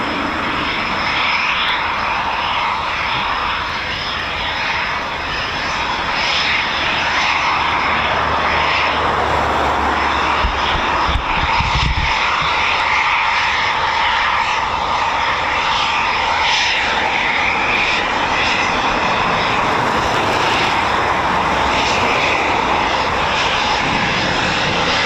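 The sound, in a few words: Eurofighter Typhoon FGR4 jet slowing down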